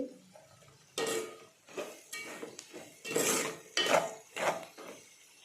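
A spoon scrapes and knocks around a pan of cluster bean fry in a steady series of separate stirring strokes, each a distinct metallic clatter against a quiet background.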